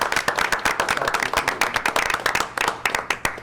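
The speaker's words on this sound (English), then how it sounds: "So I don't know if a round of applause is in" A round of applause at a township trustees meeting: a small group clapping with individually distinct, sharp claps in a fast, uneven patter that continues for several seconds, loud and close.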